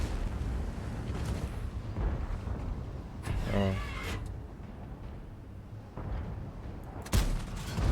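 KV-4T heavy tank in a tank battle game fires its cannon several times, with sharp booms over a steady engine rumble and a loud shot near the end.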